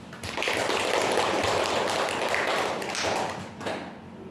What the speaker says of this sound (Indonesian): Kami ucapkan pada kelompok 5, kasih aplaus